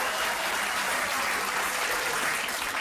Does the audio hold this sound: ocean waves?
no